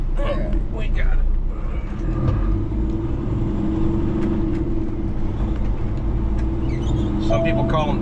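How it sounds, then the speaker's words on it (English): A big truck rumbles past on a wet, rainy road, a loud, close, continuous low engine drone with tyre hiss, while someone talks over it. "And I think I'll wait on you, big truck"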